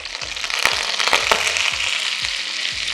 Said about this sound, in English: let's get a bit of a sizzle from the water